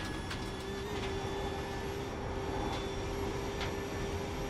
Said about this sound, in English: My engine's quite loud